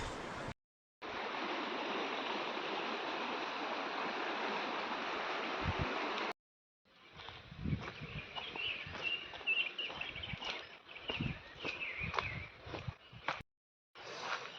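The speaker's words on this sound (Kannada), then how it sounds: "ಈ ಕಡೆ ನೋಡಿ ಜಲಪಾತ ಇದು ಮುಂದೆ ಹೋಗಿ ಫಾಲ್ಸ್ ಥರ ಕ್ರಿಯೇಟ್ ಆಗಿದೆ" A waterfall-fed stream near Shahapur fort rushes steadily in a continuous roar of flowing water. It breaks off briefly and then returns, joined by scattered outdoor sounds and short clatters.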